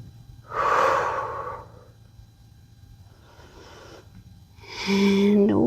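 Deep, slow breaths held through a yoga warrior bind, close and clear: one long, loud exhale, a softer breath, then another strong breath with a slight voiced tone.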